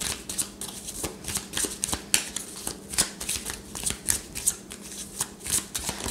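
Oracle cards being shuffled by hand in a steady run of crisp riffling, papery flicks repeating roughly twice a second, close and fairly quiet, with no talking.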